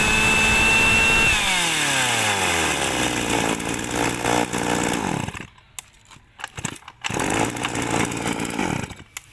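Handheld chainsaw with a 3 kg body running, the engine at a high revving whine that drops to idle, then sputters with brief cutouts and revs up again, close and loud with no talk.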